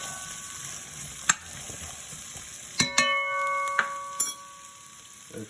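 Pot roast ingredients are sautéed in a pot, with the food scraped around over the bottom of the pan. A faint sizzle sits under a few sharp metallic clinks and taps from a utensil against the pot.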